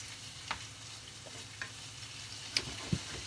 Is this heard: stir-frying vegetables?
yes